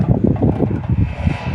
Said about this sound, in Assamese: আজি কিন্তু বতাহটো দিছে দে তামান দিছে বতাহ